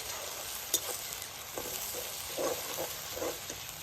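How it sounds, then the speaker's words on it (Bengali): Ground paste and a whole chopped tomato are mixed in a frying pan for an Indian egg and onion curry, a steady soft sizzle with gentle stirring scrapes coming through now and then. "সম্পূর্ণটাকে মিশিয়ে নেব।"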